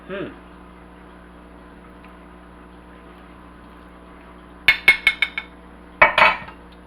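Stoup is served from a pot into a bowl, with a quick run of sharp metallic clinks followed by a second brief clatter, close by against a quiet background.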